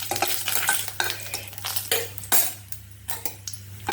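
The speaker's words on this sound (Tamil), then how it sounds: "மிளகாய் வறுபட்டுப்போம்." Dried red chillies fry in a pan as a spoon stirs them, close scraping and clinks of metal over a soft steady sizzle, repeated in uneven strokes with no talk.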